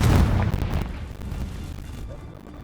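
Confringo explosion spell cast in the Hogwarts video game, a loud booming blast at the start that rumbles and fades into a lingering low roar.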